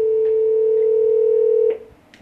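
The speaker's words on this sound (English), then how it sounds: "And it starts to ring." A VoIP desk phone, called directly by IP address with no PBX, gives a steady, unbroken ringback tone for about a second and a half before it abruptly cuts off, leaving near silence.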